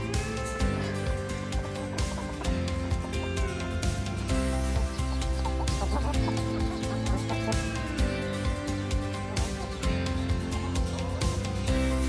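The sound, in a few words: chickens clucking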